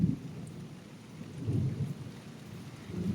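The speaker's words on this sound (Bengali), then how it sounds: "আর সেরকম আসমান ডাকতেছে।" Low rolling thunder rumbles in long swells during a heavy rainstorm, with rain hissing steadily underneath, the deep booms rising and fading several times, no voices.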